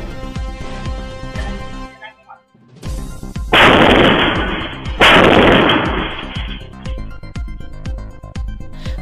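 Homemade bombs exploding on a street at night during Chhath Puja, caught on CCTV: two loud, booming blasts about a second apart, each with a long rumbling tail, over steady background noise.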